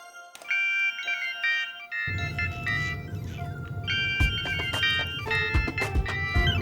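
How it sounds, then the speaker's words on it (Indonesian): A phone ringtone plays while a call is placed to dad, a looping electronic melody that rings alone at first and then continues over a dense low background rumble. "Yaudah Dinda, kamu telepon dulu papi kamu aja, terus minta jemput, ya."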